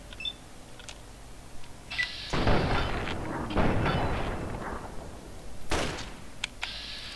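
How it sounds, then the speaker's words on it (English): Gunfire in Fallout 3, several loud broadband shots with a sharp burst near the middle and another toward the end, over steady game ambience with occasional high electronic tones. "And then I'll shoot you a lot, okay? Yeah, I'll shoot your head."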